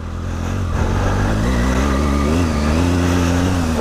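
Triumph Tiger 800/1200 adventure motorcycle engine running off-road, a close, loud steady drone that rises slightly as the revs pick up, with no talk over it.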